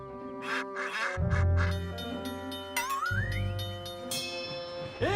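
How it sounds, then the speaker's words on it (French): Several ducks quack repeatedly and close by, overlapping in a lively, honking chorus with a rising whistle-like tone mixed in. "Bougez-vous les plumes, les canards."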